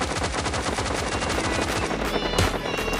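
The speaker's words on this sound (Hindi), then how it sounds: "भाई तुम देख सकते हो कितना फायर आ रहा है हर तरफ से" Rapid automatic gunfire from PUBG Mobile Lite rattles in dense, continuous bursts, loud and close, with heavy firing coming from several directions and no voices over it.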